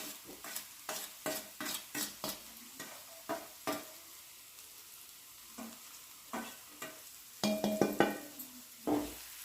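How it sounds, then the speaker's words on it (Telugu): Chilli powder, salt and coriander powder are stirred into a capsicum egg curry in a pan, giving a string of distinct scraping, clacking strokes of the spoon over a soft sizzle, fairly quiet and close, with no speech. "ఇందులో కారం, ఉప్పు, ధనియాల పొడి వేసుకొని కలుపుకోవాలి."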